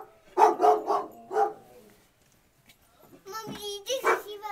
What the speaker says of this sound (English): did you see that dog?